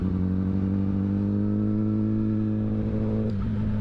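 A Kawasaki Ninja ZX10R engine hums steadily while riding, a smooth tonal drone at moderate volume with a brief wind or handling blip near the end.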